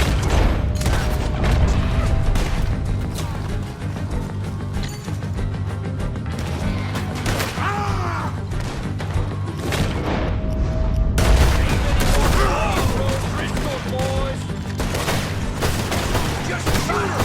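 Dense, rapid gunfire from Red Dead Redemption 2 crackles for the whole stretch, with overlapping shots, booming bursts and machine-gun-like volleys, loud and close, with voices intermittently underneath.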